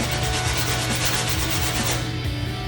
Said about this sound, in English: just doing some sanding